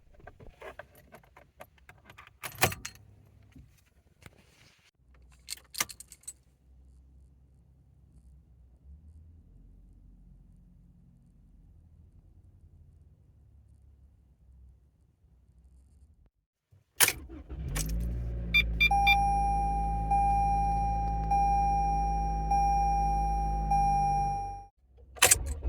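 A 2022 Toyota Corolla starts up: key clicks and rattles, a quiet pause, then the engine catches and idles steadily while a chime beeps repeatedly at an even rhythm before everything cuts off.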